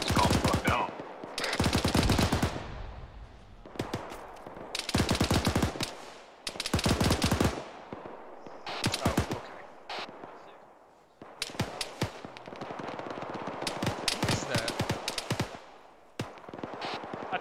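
Repeated bursts of automatic machine gun fire from a SAW gunner in the ArmA 3 military video game, loud sustained volleys separated by short pauses, with denser rattling fire toward the end.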